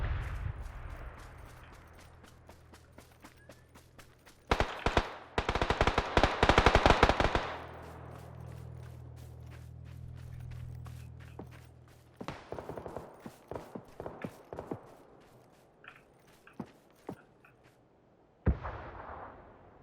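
Automatic gunfire from a shooter video game erupts in rapid bursts: one dense, loud volley, then a scattered string of shots, and a final short burst, with quieter game ambience between.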